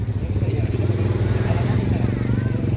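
Motorcycles idle and rumble steadily in a school parking area during a festive farewell event, a close, continuous low engine drone with clattering, as people talk over it.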